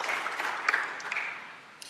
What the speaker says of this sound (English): let's give him a round of applause for helping co-host this